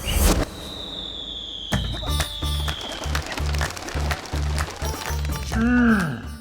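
Firecrackers and rocket fireworks go off in a rapid series of sharp bangs and crackles, with a rocket's whistle and a loud pop, while people talk nearby.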